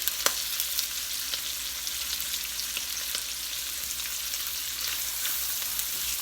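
Garlic, chopped ginger and onion fry over high heat, giving a constant close hiss and crackle with occasional small pops, no voices present.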